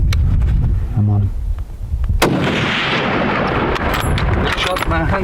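A loud, close rifle shot during a Blandford urial hunt in Pakistan, with a sharp crack followed by a long booming echo rolling across open terrain, and voices speaking nearby.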